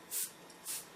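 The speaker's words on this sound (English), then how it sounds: "You just want to spray more on the plastic here than you do inside of the perimeter of the cut here." An airbrush gives two short hissing bursts of paint onto plastic, about half a second apart, soft and close in a quiet room.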